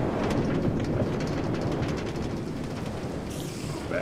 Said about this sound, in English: Back into the rain.